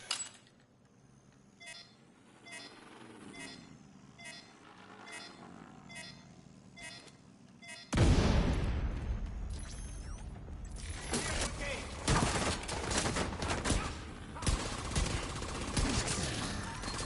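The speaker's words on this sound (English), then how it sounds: "Shooting." Gunfire in The Division 2: after a quieter stretch of repeated mechanical clicks and game chatter, a loud burst of shooting erupts and continues as dense, sustained volleys mixed with in-game voices.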